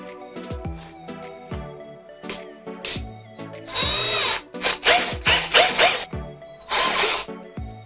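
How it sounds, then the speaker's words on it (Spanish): A cordless drill driver bores into wood, its motor whirring in repeated short bursts that grow louder and longer toward the end, with sharp stops and restarts between runs. "Taladro del tornillador."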